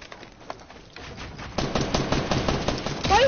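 Gunfire in the video game Fortnite, where snipers are firing: a rapid stream of crackling shots over game noise, growing denser and louder midway, with no talk over it.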